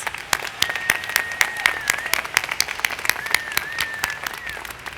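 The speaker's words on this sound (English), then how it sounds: "Please join me in giving our faculty and staff a hearty round of applause for supporting you and optimizing your success." Sustained applause at a university commencement ceremony, a large crowd clapping steadily and densely for several seconds with sharp individual claps standing out, and a faint voice or tone running beneath.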